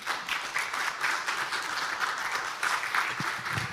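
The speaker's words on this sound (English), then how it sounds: "A round of applause for him." Audience applause at a young geotechnical engineers' conference, a steady dense patter of many hands clapping throughout at moderate level, with no talking over it.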